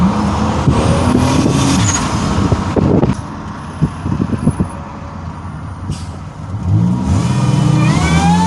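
A turbocharged 1999 Buick Regal accelerates hard, its engine revving and surging in loud waves with a brief dip midway before climbing again; no talking.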